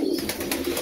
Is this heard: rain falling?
no